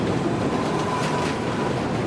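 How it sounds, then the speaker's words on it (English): Subway train crossing the Manhattan Bridge in New York, a steady, loud, broadband rumble and rattle of heavy rail cars on a steel suspension bridge, continuous with no talk. "That drawback emerged when the first subway train crossed."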